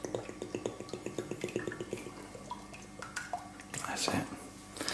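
Vegetable oil is glugged from a bottle into a frying pan for Thai crispy fried chicken, giving a quick run of rhythmic gurgling pulses, then a few clatters and rustles with a low voice nearby.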